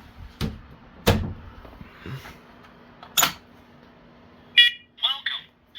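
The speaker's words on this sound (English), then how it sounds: "Let me just close the door." A door in a house swinging shut with a few sharp knocks and bangs, followed by brief electronic beeps from a smoke alarm, all close and indoors with quiet room tone between.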